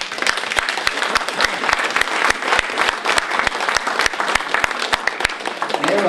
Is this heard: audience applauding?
yes